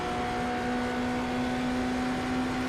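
Race car engine in a racing video game, running in the slipstream of a Porsche: a steady, loud engine drone with a constant high whine that holds without a break.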